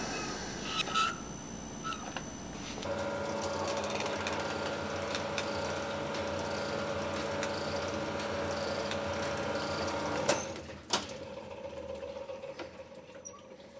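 A steady mechanical whir of an engine cylinder being honed with the finest grit stone runs for several seconds in a numbers-matching engine block, then stops, followed by a few clanks and light handling sounds.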